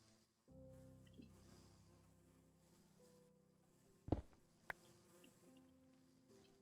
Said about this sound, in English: bees really want to get in there though